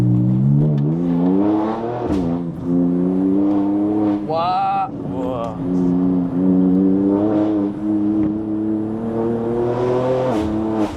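BMW M2 engine revving hard on a winding road, a loud continuous rising and falling roar with gear-change dips, heard close from inside the car; people exclaim briefly over it.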